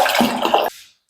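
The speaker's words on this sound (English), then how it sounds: "You gotta wash your rice" Rice being rinsed in water at home while cooking lentils, a short splashing, swishing burst that stops abruptly, followed by a brief faint clink.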